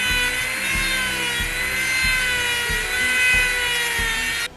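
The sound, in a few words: rotary carving bit cutting wood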